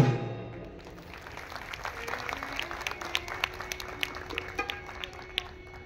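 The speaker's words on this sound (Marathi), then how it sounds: "वा वा, टाळ्या वाजल्या." Audience at a Maharashtrian folk art program breaking into applause after a song, scattered claps building into a lively crowd ovation heard at a moderate distance.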